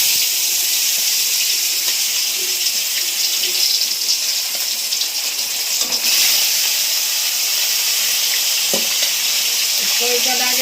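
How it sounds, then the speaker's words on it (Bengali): Fish frying in oil in a wok, a constant loud hiss and crackle of sizzling that stays close and steady, with a few faint clinks of handling. "আমি ভেজে নেব তেল দিচ্ছি কড়াইতে"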